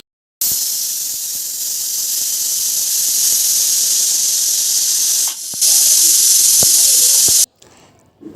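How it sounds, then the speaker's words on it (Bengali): A gas-stove pressure cooker boiling soaked peas for ghugni hisses steam loudly and continuously, dipping briefly midway before resuming and then cutting off near the end. "গ্যাসে আমি ঘুগনির জন্য যে মটরটাকে ভিজিয়েছিলাম সেটাকে আমি গ্যাসে প্রেশার কুকারে আর কি সিদ্ধ বসিয়ে দিয়েছি"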